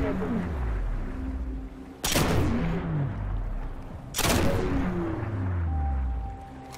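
Two heavy, booming shots from the Hereafter exotic sniper rifle in Destiny, spaced about two seconds apart, each with a long ringing tail over a soft game background.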